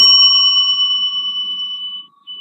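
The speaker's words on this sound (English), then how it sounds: "you will receive a ring that sounds like this," A bell rings once at a storytelling competition to signal one minute remaining, a sustained clear metallic tone that holds steady for about two seconds before cutting off.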